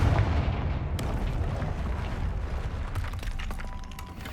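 A Confringo fire spell in the Hogwarts Legacy video game goes off as a loud, heavy explosion with deep booming rumble and crackling debris that rolls on for several seconds, fading slowly.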